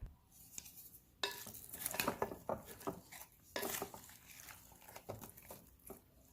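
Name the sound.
stirring lamb stew in a pot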